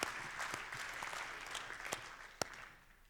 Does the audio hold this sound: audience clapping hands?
yes